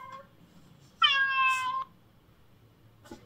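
Electronic meow from a sound box in the belly of a felted wool toy cat, a single clear tonal mew lasting under a second, close and alone in a quiet room.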